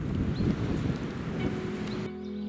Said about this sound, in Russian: Такой ветрище